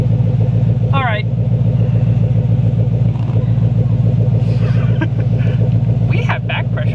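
A car engine idles with exhaust running, a loud, steady rumble throughout, with a few brief squeaky higher sounds over it and no talking.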